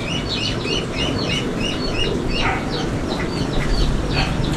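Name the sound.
duck quacking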